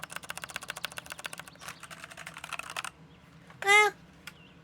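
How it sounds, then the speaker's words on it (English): A Redragon keyboard bought for a PS5 clatters under fast, rapid typing, dense close key clicks in quick bursts, then a pause and a short squeaky noise. "this keyboard's not that satisfying. I went and grabbed my Red Dragon keyboard that I bought for my fucking PS5."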